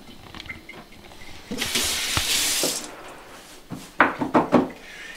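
Soaked wakame seaweed drains in a kitchen sink, a steady rush of running water for a couple of seconds followed by a few sharp splashes and clunks, with no talking.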